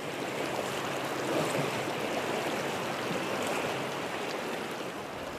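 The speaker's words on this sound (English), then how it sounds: "Professor Ran Roy Chan crosses a swift-flowing tributary north of the river" A swift-flowing river tributary rushes steadily in a dense, unbroken roar, close and loud throughout with no voices over it.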